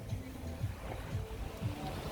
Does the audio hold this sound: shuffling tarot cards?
no